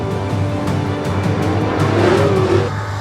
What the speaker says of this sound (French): Dans les derniers tours, tous les yeux sont fixés sur Louis-Philippe Dumoulin et Kevin Lacroix qui bataillent pour la victoire